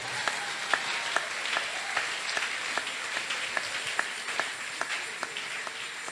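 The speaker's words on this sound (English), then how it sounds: "you can clap your hands for the Lord" Church congregation clapping their hands in worship, a steady wash of applause with regular louder rhythmic claps standing out, at moderate distance.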